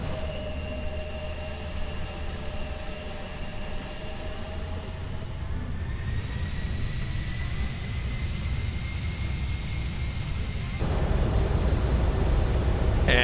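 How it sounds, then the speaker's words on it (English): Embraer E175 in a flight simulator with its landing gear extending, heard as a steady airliner engine drone with a shift in roar partway through and a louder rumble of added drag near the end; no voices. "We're going to throw the gear out because we need some extra drag"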